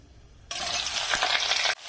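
Chopped ridge gourd dropped into a hot pan of oil with black cumin, bursting into a loud, even sizzle that runs for about a second before cutting off abruptly.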